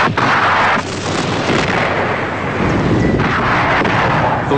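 An artillery barrage during the Shield-82 military exercise in Bulgaria: a loud, continuous roar of overlapping blasts and rumbling reports that rolls on without pause.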